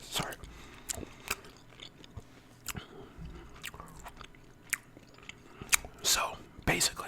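Gum chewing close to the microphone, wet smacks and crunchy bites at irregular intervals, with soft speech in between.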